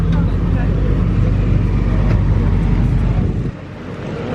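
A Mercedes SLS Black Series supercar drives past on an airport runway among hypercars, a loud broad engine roar with wind buffeting that drops away abruptly near the end, while people talk.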